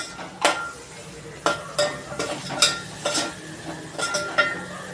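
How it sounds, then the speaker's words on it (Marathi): Spices, kasuri methi, mint and coriander being stirred in a pan for a potato and brinjal masala rice, with a few scrapes and clinks of the spoon against the pan over a soft sizzle, close and moderately loud. "सर्व मसाले परतून झाले तर आपण वांग बटाटे टाकू।"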